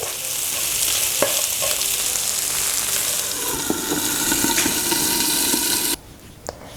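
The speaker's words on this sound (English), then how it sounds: "I'm happy with the way the meat has turned fried." Goat meat frying in a pan gives a loud, steady sizzle with a few clinks and scrapes, heard up close before the hiss suddenly drops away near the end.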